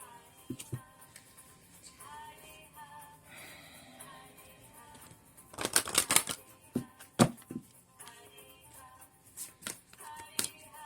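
Romance Angels oracle cards are shuffled by hand at close range: soft riffling and sliding, with a burst of crisp, louder riffles and taps in the middle and scattered card snaps toward the end.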